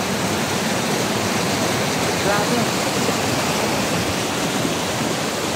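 Swirling, rushing water in a forest stream, a loud, constant roar of flowing water close by, with a brief voice over it.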